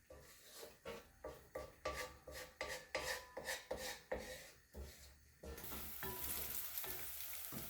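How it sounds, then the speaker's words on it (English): Garlic and shallots fried in a few tablespoons of vegetable oil, starting with rhythmic rasping stirring strokes that give way to a steady, even sizzle, quiet and close, with no talking. "about 2 or 3 tablespoons of vegetable oils here to fry the garlic and shallots"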